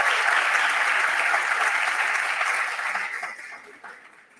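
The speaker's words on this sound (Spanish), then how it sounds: "vamos a brindarle de todas maneras un gran aplauso a todos nuestros exponentes del día de hoy" At an international symposium on science and mathematics teaching, an audience applauds the day's speakers with a loud, dense burst of clapping that holds steady, then thins and fades out near the end.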